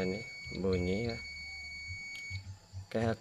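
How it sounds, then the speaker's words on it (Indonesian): A continuity tester's short electronic buzz sounds a few times in brief pulses while checking a Chinese TV's regulator, mixed with a person talking nearby. "ini caranya kita ambil buzzer."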